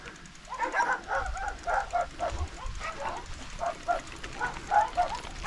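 Several dogs bark repeatedly at a farmstead beside a rural road near Sremski Karlovci, a steady run of mid-distance barks and yips continuing throughout with outdoor ambience.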